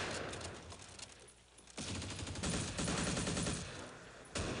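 Rapid bursts of machine-gun and rifle fire come from squads fighting in the wartime strategy game Close Combat, set on Crete. The shots rattle in dense volleys, pause briefly, then resume in louder continuous fusillades.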